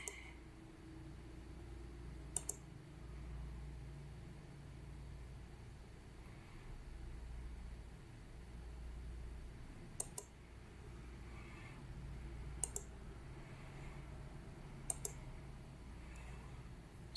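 A computer mouse clicking while working in SolidWorks CAD software: about five isolated, sharp clicks spaced several seconds apart over a steady low room hum.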